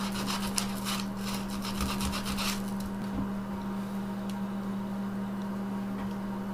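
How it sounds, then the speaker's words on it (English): Hand sanding of delicate cut wooden fretwork: a steady, soft rasping rub with a few brief stroke bursts early on, close and moderate over a constant low hum. "I'm going to go ahead and sand that off"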